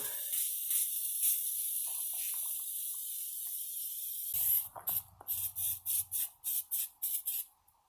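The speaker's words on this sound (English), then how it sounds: "So just spray it on. As they say, spray it on liberally." A steady aerosol hiss of oil sprayed onto an ATV runs for several seconds, then breaks into a quick series of short, sharp spray bursts, close by and fairly loud.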